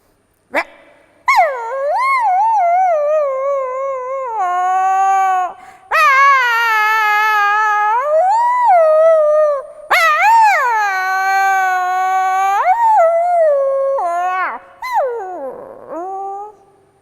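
A human voice imitates a hungry dog, with long wavering whines and howls rising and falling in pitch, loud and close, in several drawn-out phrases.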